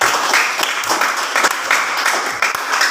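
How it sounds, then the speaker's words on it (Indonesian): A class of students claps for a group that has just presented, a dense, steady round of applause lasting throughout, loud and close with no talking over it. "Mari kita berikan tepuk tangan yang mulia."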